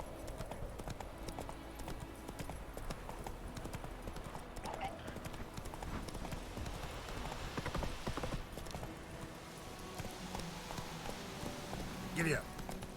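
Geralt's horse Roach in Witcher 3, game hoofbeats clip-clopping steadily across the whole stretch amid dense game ambience and music, with a brief louder burst near the end.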